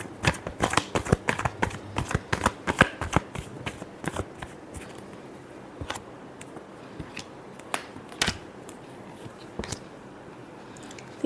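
Tarot cards riffled and shuffled by hand in a love reading, giving quick papery flicks and slaps, dense and rapid at first, then thinning into scattered single snaps; close and fairly quiet with no talk.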